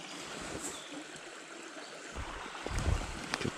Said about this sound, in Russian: На таком маленьком ручье.